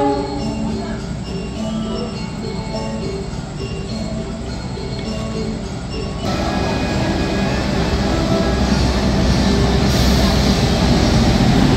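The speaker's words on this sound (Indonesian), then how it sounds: "Lokomotif dinasnya adalah CC 20698." A passenger train hauled by locomotive CC 20698 rumbles along, heard from on board as a steady low roar and rattle that grows louder partway through.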